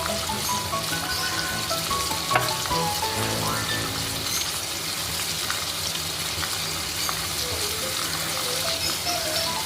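A spoonful of ground cumin sizzles in hot oil while a Bengali katla fish curry is being made. The soft, steady crackle and hiss runs evenly throughout at moderate volume, with a faint stirring clink partway through.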